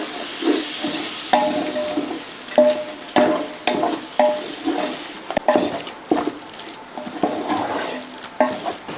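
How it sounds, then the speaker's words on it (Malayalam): Biryani masala paste gets stirred in a pan with a little water added, giving repeated wet scraping and sloshing strokes in a steady rhythm, close and fairly loud, with no talking. "ഇനി ഒന്ന് ഇളക്കി കൊടുക്കുക."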